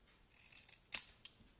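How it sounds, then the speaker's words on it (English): Scissor snips cutting paper during craft stamping work, a quiet soft cut with one sharper snip near the middle and a fainter second snip shortly after, alone in a hushed room. "Cutting straight, but I have my trusted snips,"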